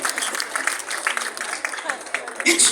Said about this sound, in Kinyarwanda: Namukomeye amashyi Jeremy